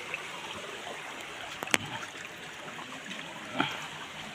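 A stream flows at a river bathing spot with a soft, steady wash of running water, broken by a couple of brief splashes or knocks. No one speaks.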